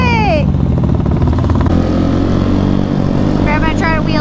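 A motorcycle doing a burnout at a street riding event in Seattle, a loud, continuous engine roar with a rising and falling rev close by, while voices talk and shout over it.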